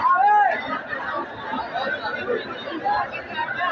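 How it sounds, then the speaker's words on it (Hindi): A packed Karachi mall full of crowd chatter, with hooting and shouting rising from a dense babble of many voices, loud at the start and then continuing as a steady hubbub. "ऊपर जो है हूटिंग की आवाज़ आपको सुनाई दे रही होगी शायद इस वीडियो में"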